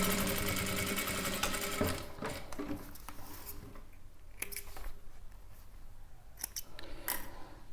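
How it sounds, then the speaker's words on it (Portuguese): Sewing machine running a half-foot stitch along the whole edge of a handbag to close the lining to the bottom, a loud steady whir for the first two seconds, then quieter stop-start stitching and handling clicks near the mic. "nós vamos só fazer uma costura na borda todinha para fechar o forro com o fundo"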